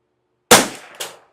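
A Ruger 10/22 rifle fitted with a muzzle brake fires two sharp shots about half a second apart, the first louder, each with a short ringing decay against silence.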